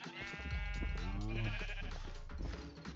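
Minecraft sheep bleating, a few wavering close bleats in quick succession over a low rumble of game ambience, with no talking.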